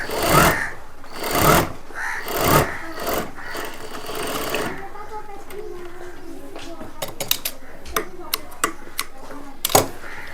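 Sewing machine stitching a kurta for Eid at home, short loud bursts of stitching in the first half with a steadier run, then quiet handling and sharp clicks.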